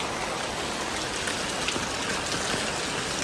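Steady rain patters hard and close on a leaking umbrella in a busy urban village in Xi'an, a dense continuous drumming with no talk.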